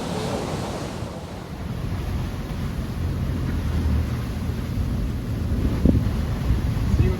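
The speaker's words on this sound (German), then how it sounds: "Sehr hohe Wellen, starker Wind, 20 bis 25 Knoten Wind." Strong 20 to 25 knot wind buffets the microphone over the constant rush of very high waves while sailing in the Caribbean, loud and unbroken throughout.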